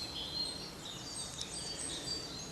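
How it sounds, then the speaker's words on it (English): Woodland birds including woodpeckers, tits and a chiff-chaff sing faintly in the distance, with scattered high chirps and short calls over a quiet outdoor background and no talk. "Incredibly noisy, lots of bird song at the moment. Woodpeckers, tits, the odd chiff-chaff."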